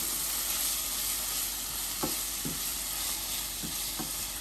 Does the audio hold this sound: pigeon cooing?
no